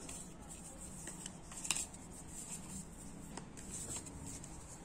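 Board game cards are shuffled by hand in a quiet room, giving soft, faint papery riffling and light flicks with one brief louder snap partway through.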